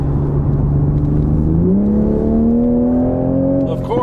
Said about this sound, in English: that sound is pure Supra